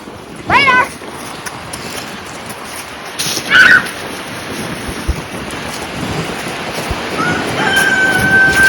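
Strong outdoor wind buffets and rumbles across the microphone in gusts, with brief voices and a few sharp sounds heard over it.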